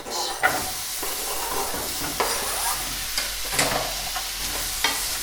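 Chopped pepper stirred through cooking garlic in a pan for a vegan spaghetti bolognese, a steady close sizzle broken by regular scraping strokes of the spoon.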